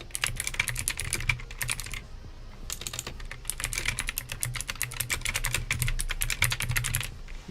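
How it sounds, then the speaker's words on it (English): Fast typing on a computer keyboard comes in close, crisp bursts of clicking keystrokes, broken by a couple of short pauses, with no talk over it. "So I'm just typing in here."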